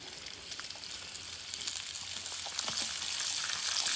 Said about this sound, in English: Here we got the bacon sizzling in the pan